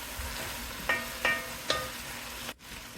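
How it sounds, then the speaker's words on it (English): Sliced bitter melon sautéing in a pan for a stir fry, a steady close sizzle broken by three clattering stirs of a utensil and a brief cut near the end. "put the sliced bitter melon, and then once again saute it."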